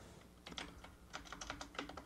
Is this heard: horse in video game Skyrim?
no